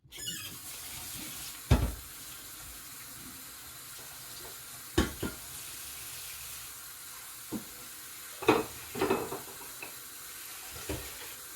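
A kitchen tap runs steadily while dishes are washed up during turkey stock making, a soft hiss broken by several sharp clatters and knocks of utensils, close by and with no talk.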